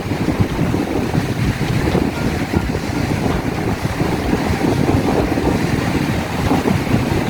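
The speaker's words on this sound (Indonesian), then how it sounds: "langsung ini suasana laut, suasana pantai yang luar biasa" Strong wind roars across the microphone on an open seaside beach, with a dense, continuous rush and wave noise that stays loud and steady throughout.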